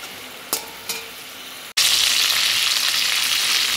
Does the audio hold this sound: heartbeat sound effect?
no